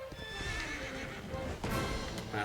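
In Dragon Quest XI, a horse gallops with steady clip-clop hoofbeats and lets out a neigh, sounding close and clear over game background sound.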